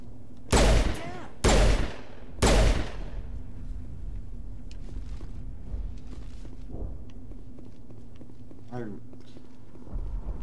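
Three loud, evenly spaced pistol shots in Mass Effect Legendary Edition, each with a sharp crack and a trailing echo, followed by quieter game ambience and someone talking.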